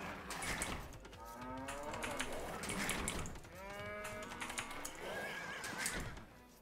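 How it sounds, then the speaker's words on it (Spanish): Cows moo in a video game, with several drawn-out lowing calls one after another, moderately loud over a busy game background with no speech. "Son vacas encima."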